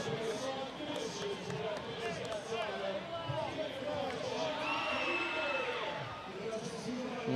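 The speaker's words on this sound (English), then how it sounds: "We have a crowd sing-off here in Hadlock Field" A baseball crowd at Hadlock Field in Portland, Maine, singing together during a Savannah Bananas game against the Party Animals, a dense, continuous mass of voices and whoops that stays loud throughout.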